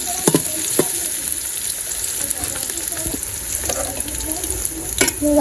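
Garlic paste frying in a pan for village-style chicken, with a close, continuous sizzle, a few sharp clinks and scrapes of a utensil, and a faint watery splash near the end.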